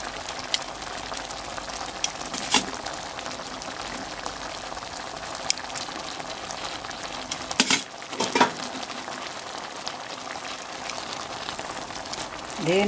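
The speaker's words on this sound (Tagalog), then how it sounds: "Then i-mix po natin mabuti hanggang mag-combine itong sauce at saka yung pasta." Squid ink pasta is stirred into sauce in a pan, giving a steady close bubbling sizzle with soft scraping and stirring clinks throughout.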